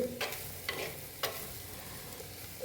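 Toor dal thoran is stirred in a pan, with a soft background sizzle and three or four brief, close scrapes of a spoon against the metal.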